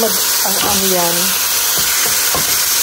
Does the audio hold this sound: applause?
no